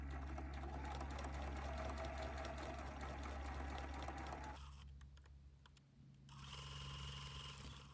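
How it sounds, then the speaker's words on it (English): A domestic sewing machine runs a steady straight stitch through quilting fabric for a toilet-paper-roll Christmas ornament, with a continuous buzzing hum that briefly slows and quiets before picking up again, close and loud with no talk. "I'm just going to do a straight stitch right on the line that we've traced, making sure to do a back stitch at the beginning and the end."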